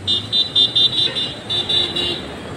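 Traffic runs along the Pune-Nagar highway, with a constant road rumble under repeated short, high car horn toots that come in quick bursts.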